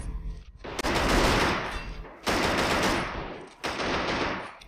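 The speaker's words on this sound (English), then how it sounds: "Fancy shootout now with Handzy." Loud, sustained gunfire from a World War II real-time strategy shootout in Men of War: Assault Squad 2, with dense automatic bursts in three long waves separated by brief lulls.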